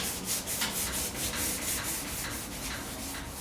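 Rhythmic back-and-forth scraping of a sanding block over body filler on a Porsche 356, steady and close, with regular strokes and no voices.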